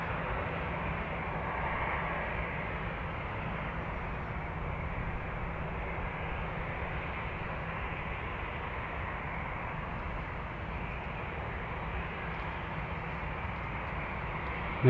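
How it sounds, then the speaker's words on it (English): A Ryanair airliner arriving from Verona, its jet engine roar a steady, broad rumble that holds at an even, moderate level throughout with no talk over it. "Ryanair in from Verona."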